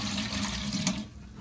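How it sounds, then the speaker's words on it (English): Tap water pours steadily into a large steaming pot holding apple cider vinegar, a close, continuous rushing fill that cuts off near the end. "I'm gonna fill up the rest with water"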